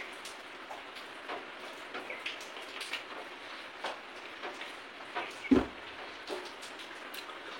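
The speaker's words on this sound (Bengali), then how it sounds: "বৃষ্টি নেমে গেল" Rain falls softly and steadily as a faint, even hiss with light scattered patter, and a single louder thump stands out near the end.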